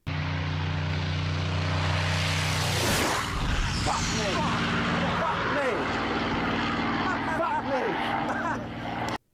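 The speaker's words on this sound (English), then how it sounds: "This is the last time this reporter plays chicken with a plane." A low-flying airplane roars overhead near a runway, its engine building to a loud peak and then fading into a steady rumble with a fluttering whine as it passes directly over the spot where a person stands.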